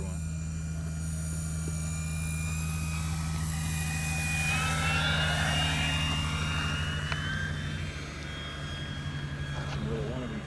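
An E-flite P-51D Mustang 1.5m RC airplane flies overhead with a steady electric motor whine that swells as it passes nearer, then eases off, over a constant low hum.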